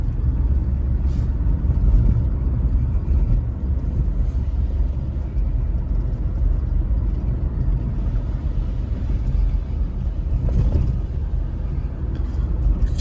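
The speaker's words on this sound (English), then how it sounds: "Check how smooth and quiet this car is." A Mazda 6 sedan cruising at night in fifth gear, its engine giving a steady, smooth low rumble mixed with road noise that stays continuous and even throughout, with no talking.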